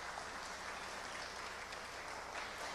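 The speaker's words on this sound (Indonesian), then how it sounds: "Berikan tepuk tangan buat Tuhan Yesus." A church congregation applauding at a worship service, a steady, even wash of clapping that stays fairly quiet and distant throughout, with no voices standing out.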